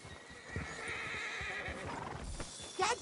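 A horse in Red Dead Redemption 2 lets out a clear neigh with hooves clip-clopping nearby, fairly faint but distinct, ending in a short whinny burst near the end.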